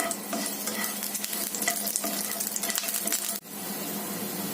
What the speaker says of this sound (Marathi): मी आधी लसूण पाकळ्या भाजून घेते. थोड्या लालसर करायच्या आहेत आपल्याला ह्या.